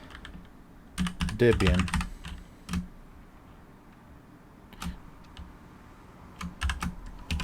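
Fingers type a Docker command on a computer keyboard in bursts of quick, close clicks separated by pauses, with a brief spoken word partway through.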